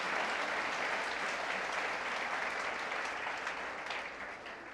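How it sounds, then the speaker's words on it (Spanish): A church congregation applauds together in sustained, dense clapping that stays loud and steady throughout, easing slightly near the end, with no talk over it. "Pueden darle un aplauso a Jesucristo."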